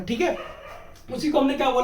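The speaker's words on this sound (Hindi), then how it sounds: "जो कुत्ते भौंक रहे ससुरे" Dogs bark in the background with short, sharp yips while someone talks over them indoors.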